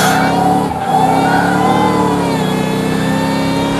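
Jaguar XK180 sports car engine during heel-and-toe downshifts into a corner: a loud, sustained rising-and-falling rev with clear shifting pitch steps, close and continuous, no talking.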